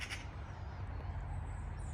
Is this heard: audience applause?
no